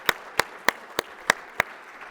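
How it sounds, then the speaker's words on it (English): Six sharp, evenly spaced claps at a ConnectTech 2021 conference talk, crisp and close with a slow steady rhythm, sounding more like one or a few people than a full crowd ovation. "give them a round of applause"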